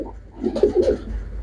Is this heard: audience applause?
no